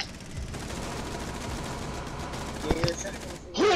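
Distant, steady gunfire in Rainbow Six Siege runs throughout at moderate level as a low, continuous rattle of shots, with a few brief sharper sounds near the end.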